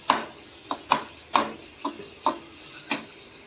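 A spoon stirs roasted brinjal and masala in a pan, making sharp, irregular metallic clinks and taps against the pan, close and fairly quiet, with no one talking.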